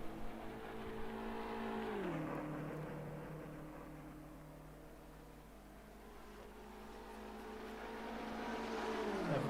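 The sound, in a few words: BMW GT3 race car engine in rFactor 2 video game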